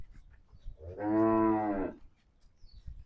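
A single loud, close Gir cow moo lasting about a second, deep and droning, with quiet background noise before and after.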